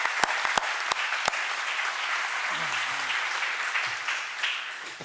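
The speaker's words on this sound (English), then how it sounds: "We'll give you a round of applause for all the staff." Applause from a large crowd of staff and attendees at a city council oath of office ceremony, a steady broadband clatter that carries through with a few sharper claps near the start and a faint voice murmuring briefly midway.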